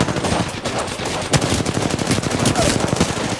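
An R-301 rifle fires rapid, loud automatic bursts in Apex Legends, with shots clattering close and dense throughout and other gunfire mixed in.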